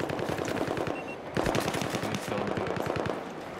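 Rapid automatic gunfire rattles in Battlefield 4 multiplayer, loud close bursts of shots in quick rhythm, with more fire layered behind.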